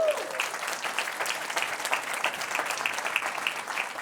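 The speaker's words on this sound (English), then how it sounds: "Give her a round of applause" An audience at a business talk claps steadily for several seconds, a dense, even patter of many hands filling the room.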